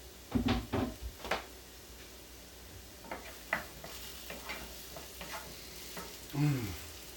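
Garlic cloves, cut fairly large, tossed into a pan of frying potatoes for papas con huevo, giving a faint sizzle broken by several sharp knocks and scrapes of a utensil against the pan.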